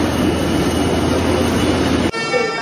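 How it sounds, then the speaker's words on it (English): Loud, roaring rail noise of a train arriving at a station in Vietnam, rumbling past up close, cutting abruptly to a lower rattling hum near the end. "All right, the train is here."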